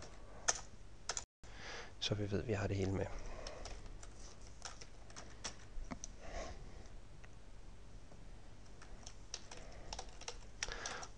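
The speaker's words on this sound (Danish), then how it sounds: "jeg prøver lige at taste ind forfra" Keys clatter on a computer keyboard in irregular bursts of close, crisp clicks, with a person speaking briefly in Danish near the start.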